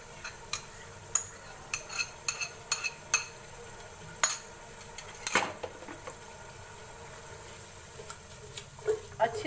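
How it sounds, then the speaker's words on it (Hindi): Kitchen utensils clink and scrape in a pot as yogurt goes into peas frying for matar pulao, a string of sharp separate taps and knocks near at hand over a quiet background. "ये मटर हमने भून लिए 2 से 3 मिनट तक। अब हम शामिल करेंगे इसमें दही"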